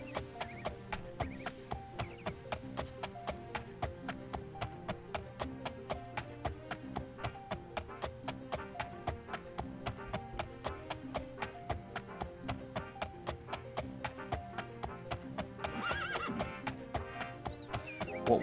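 A horse in The Elder Scrolls gallops in a steady, regular rhythm of hoofbeats under continuous game music. A whinny rises near the end.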